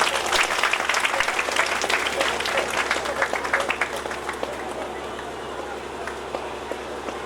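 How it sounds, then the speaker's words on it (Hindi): A crowd at a Hindu religious ceremony claps in dense, crackling applause that starts strong, then gradually thins into scattered claps toward the end. "एक बार जोरदार तालियां"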